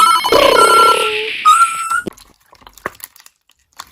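In the Roblox game Friday Night Funkin', an odd in-game telephone rings with bright, electronic tones for about two seconds, then gives way to scattered soft clicks and taps.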